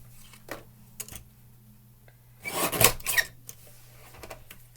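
Paper is trimmed and a corner rounded while making a scrapbook page, giving a few faint soft rubbing clicks and a louder, brief rasping scrape near the middle, with quiet gaps between.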